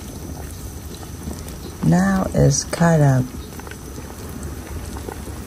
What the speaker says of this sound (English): The soup boiling up after a few minutes that I left them alone.